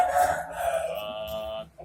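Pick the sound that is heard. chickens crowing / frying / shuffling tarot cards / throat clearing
chickens crowing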